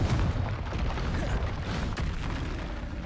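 Confringo fire-blast spell in Hogwarts Legacy, a loud booming explosion with crackling bursts, close up, amid other spell impacts and a voice shouting.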